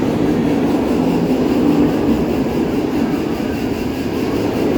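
A roller coaster train at Dorney Park rumbles over the helix and down a drop, a loud, continuous low roar with rattling wheels, steady and close throughout, no voices.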